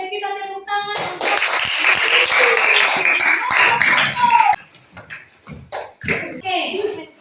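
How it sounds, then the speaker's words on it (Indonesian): Classroom students break into loud, sustained group applause lasting a few seconds, followed by scattered claps and children's voices. "Dan kita tepuk tangan untuk"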